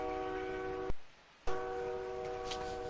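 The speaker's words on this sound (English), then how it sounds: "I heard that train clear as day" A train rolls past with a steady horn blast, heard faintly through an active headset microphone; the tone cuts out briefly, then resumes with the rumble underneath.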